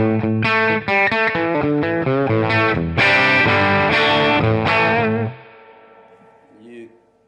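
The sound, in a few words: vintage electric guitar through tube amp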